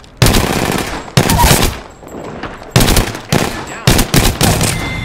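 Loud video-game gunfire in Apex Legends, several sharp automatic bursts in quick succession with short gaps between them, close and dominant.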